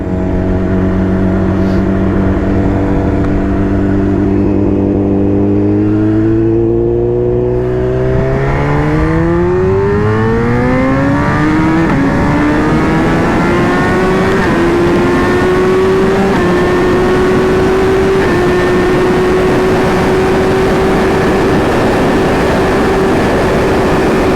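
A BMW S1000RR motorcycle accelerates hard on the Autobahn, its engine note climbing steadily in pitch through the gears to a sustained high whine, loud and close with heavy wind rush throughout.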